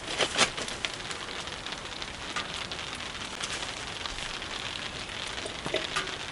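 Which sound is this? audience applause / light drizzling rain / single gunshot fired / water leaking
light drizzling rain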